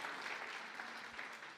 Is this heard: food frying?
no